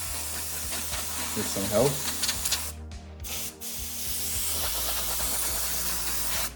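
Bursts of compressed air hiss across a GTX 1070 graphics card during cleaning, a loud spray broken by brief pauses, with a voice speaking briefly over it.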